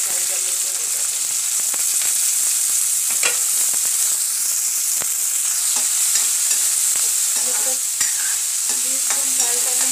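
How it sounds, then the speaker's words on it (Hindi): Beans frying in a pan for vegetable biryani give a loud, steady sizzle and hiss throughout, with repeated scraping stirs and light clinks of a spoon against the pan, heard close up. "लेकिन हम बीन्स को थोड़ा सा फ्राई कर लेंगे।"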